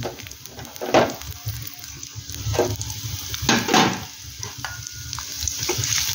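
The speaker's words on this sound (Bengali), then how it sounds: "কড়াইতে দিয়ে দিয়েছি তেল, তেলে দিয়ে দেব রসুন" Garlic frying in hot oil in a kadai as it is stirred, a steady close sizzle broken by several scraping strokes of the spatula against the pan.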